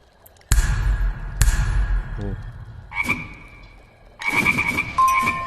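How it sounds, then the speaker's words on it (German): A swarm of frogs conjured by a spell in the VR game Waltz of the Wizard, croaking loudly and close, with sharp individual croaks followed by overlapping bursts of ringing croaks and chirps. "use the spell and you let out a swarm of frogs to play"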